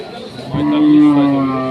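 A Sahiwal bull at a busy cattle market lets out one loud, long, close moo that swells and then fades, with faint market noise behind it.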